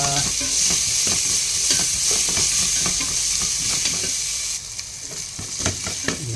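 Ginger sizzles and fries in a hot pan for Filipino chicken adobo, a steady close crackle with repeated scraping stirs, the sizzle easing slightly toward the end, no talking.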